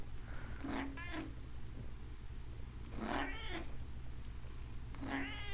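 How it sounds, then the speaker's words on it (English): A cat meows three times, evenly spaced and fairly close, each a drawn-out wavering call with quiet pauses between. "Can you give me three meows?"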